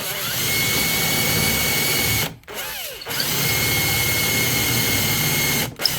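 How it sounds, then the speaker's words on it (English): A power drill bores into the bottom of a cabinet with a loud, sustained whine, broken by two short pauses where the motor drops off before spinning back up. "mark where I drill into the bottom of the cabinet"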